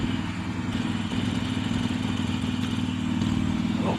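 A Harley-Davidson Iron 883 motorcycle engine under way, a steady deep rumbling drone with pulsing low throb and wind rush, close and continuous throughout.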